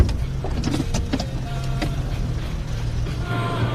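A car pulls up to collect a passenger in a film scene, the driver dressed as a clown; a steady low engine hum runs throughout with a few faint mechanical clicks and whirs, close and moderately loud, no talking.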